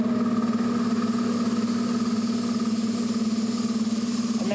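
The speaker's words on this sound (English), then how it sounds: "And then the compressor will run" A Posifill EF air compressor, plugged into a mains socket, runs steadily with a loud, even motor drone and a pulsing hum that holds without a break.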